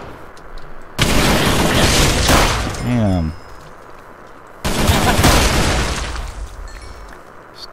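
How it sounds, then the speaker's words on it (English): Gunfire and explosions in a Minecraft Fallout-style modpack, two loud sustained bursts of rapid shooting and booms separated by a quieter gap, with a short spoken exclamation over the first burst. "I hear gunfire."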